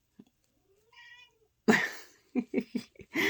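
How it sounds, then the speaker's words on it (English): A small cat gives a short, high meow, followed by a burst of close, breathy sounds and a few rapid chirpy vocal bursts. "there's a mini kitty cat in the back"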